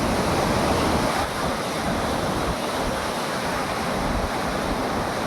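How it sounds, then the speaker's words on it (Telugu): Steady, loud rushing of turbulent water, a continuous roar of floodwater flowing past submerged crop fields, with gusty wind noise on the microphone and no voices. "వరద ప్రవాహం చూడండి ఫ్రెండ్స్"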